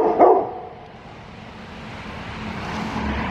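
A dog barks once sharply near the start, then a low rumble of passing road traffic rises and continues outdoors.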